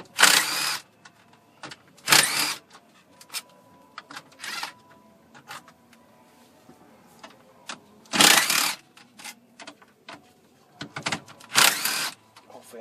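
Power tool and ratchet work on the 7mm bolts holding the radio in a Ford Super Duty dashboard: several short loud whirring bursts separated by quieter clicks and handling noises, close up.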